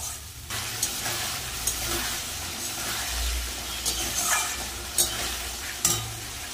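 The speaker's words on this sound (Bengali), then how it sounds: "এবার ভালো করে মশলাটা কষিয়ে নেব, পেঁপে আলুর সাথে ভালো করে মাখা মাখা করে নেবো একদম।" Spices stir-fried with papaya, potato and tomato in a pan, a steady loud hissing sizzle punctuated by sharp scraping spatula strokes every second or so, close up and with no talking.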